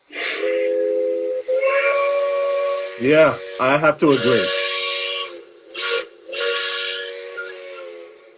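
A model train's quilling steam whistle, on a Lionel Legacy system, sounds in long wavering blasts, its pitch bending and swelling between notes, with a short spoken reply partway through.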